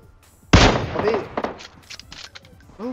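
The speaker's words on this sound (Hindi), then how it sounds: "रिक भैया जिंदा रहे तो इसी बात पे हमने कार एट उठा कर इनके मुँह पे पटापट पट पटापट पट हेड शॉट पे हेड शॉट मारने शुरू कर दिए" A single sharp, loud Kar98k bolt-action sniper rifle shot in the PUBG Mobile game, followed by a short echoing tail and faint clicks and game sounds.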